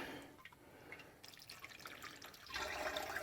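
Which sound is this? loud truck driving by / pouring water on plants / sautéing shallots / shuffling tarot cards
pouring water on plants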